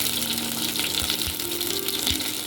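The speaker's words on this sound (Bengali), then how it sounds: "তেলটা গরম হোক, শুকনো লঙ্কাটাও ভেজে নেব।" Dry red chillies fry in hot oil for a cauliflower bhorta, giving a close, steady crackling sizzle with a few soft low knocks from the pan.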